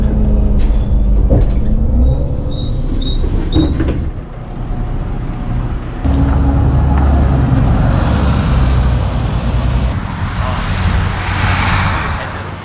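A city bus in Bucharest pulls up with a hiss of air brakes and sliding doors, passengers boarding before it moves off; steady engine rumble and street traffic fill the scene, with a few voices talking nearby.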